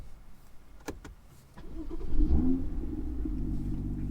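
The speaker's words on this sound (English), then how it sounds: "brake, clutch, and start her up" A 365 hp BMW M2 with a manual gearbox starts up, a few clicks, then the engine cranks and catches into a loud, steady low idle rumble heard from inside the car.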